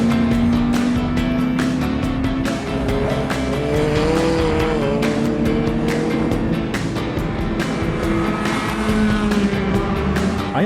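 Honda Civic race car running hard on a track, engine note rising and falling continuously through gear changes with brief tire squeal, loud and close throughout with no talk.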